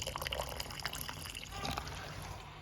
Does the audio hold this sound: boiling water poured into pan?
yes